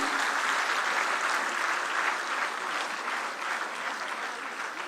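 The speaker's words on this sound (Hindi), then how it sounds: "तालियों के प्रणाम से ही उन्हें विदा दें।" A hall audience applauds steadily and evenly in a dense, sustained wash of many hands, moderately distant and without voices, as a chief minister is bid farewell at the end of a formal function.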